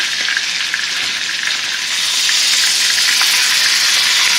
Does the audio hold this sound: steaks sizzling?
yes